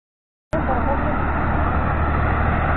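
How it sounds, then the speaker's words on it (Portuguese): A milk truck rolls along a country road during a family picnic, its steady engine and tyre rumble filling the scene after a sudden start and holding at a constant, fairly close level. "Olha o caminhão de leite."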